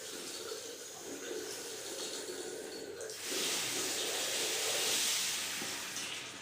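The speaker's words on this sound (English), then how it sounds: "I'll just turn on another tap." Water gushes steadily from a household tap that has just been turned on while the mains supply is off, a continuous hissing rush that swells louder partway through and stays steady.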